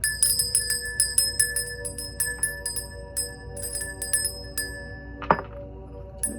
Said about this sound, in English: I'm gonna ring the bell, okay?